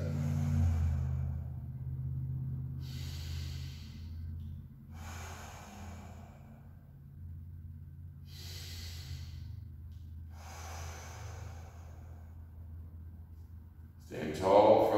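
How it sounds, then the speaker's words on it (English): Big deep breaths during a floor mobility exercise: five slow, evenly spaced airy breaths over a low steady rumble, with a louder burst of sound at the very end. "Big deep breaths."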